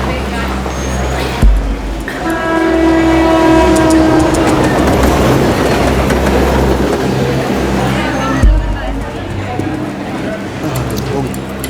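A train rumbles at a railway platform, its horn blowing loudly for a few seconds over the steady rolling of wagons, with the clatter continuing afterward and voices in the background.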